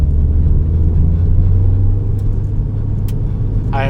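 A tuned Subaru engine making 400 wheel horsepower, with an external wastegate, rumbles loud and steady up close, a deep continuous drone with a brief higher whoosh near the end.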